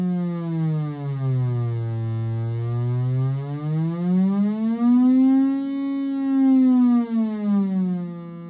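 Buchla 266t source of fluctuating random voltage on a modular synth, smoothly modulating an oscillator's pitch so a single buzzy tone glides slowly down and up, steady and alone.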